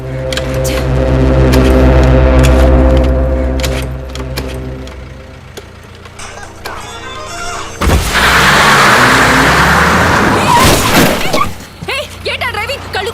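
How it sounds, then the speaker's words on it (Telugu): A motorbike is started and driven in a Telugu movie scene: a steady engine drone gives way to a louder, rougher burst of revving and noise, with voices and music over it. "బండి మీద కూర్చుందన్న. స్టార్ట్ చేయడానికి ట్రై చేస్తుందన్న."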